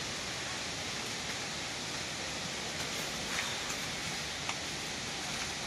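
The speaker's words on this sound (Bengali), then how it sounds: "দূর থেকেই ঝর্ণার আশ্রে পড়া পানির আওয়াজ কানে ভেসে আসছে" Langlok Falls in Bandarban heard from a distance, a steady broadband rushing wash of falling water that stays even and continuous throughout, with a few faint ticks on top.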